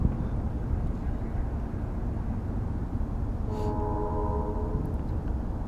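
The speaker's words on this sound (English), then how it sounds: "That honking here is on the other side. That'd be a railroad" A freight train horn sounds from a railroad across the water, heard faintly and at a distance as a short steady honk over a constant low rumble of wind and ship noise.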